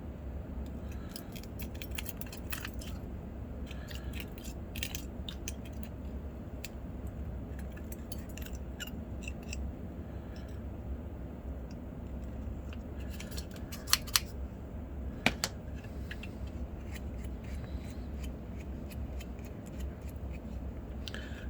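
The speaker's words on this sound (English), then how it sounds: "I just take a pair of scissors and I just cut along the bottom here" Repeated crisp snips of scissors cutting along the bottom edge of a 3D-printed N scale house part, close and fairly quiet, with a couple of sharper clicks midway and steady low background hum.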